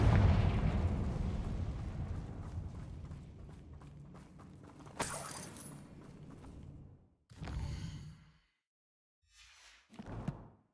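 A Confringo spell blast in Hogwarts Legacy: a loud booming rumble that slowly decays, followed by a sharp crack and a few separate short bursts of game effects with silent gaps between.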